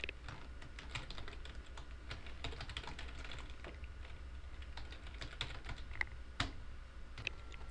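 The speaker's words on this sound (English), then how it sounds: "Now I'll just start to type in the message." Steady typing on a computer keyboard while a thank-you message for a referral is keyed in, with rapid, uneven clicks running throughout at close range. No one speaks.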